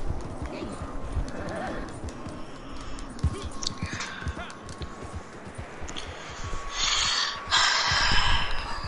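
A horse in the Red Dead Redemption 2 video game snorts and breathes as its hooves clip-clop at a steady walking rhythm, fairly close, with a few louder breathy bursts toward the end.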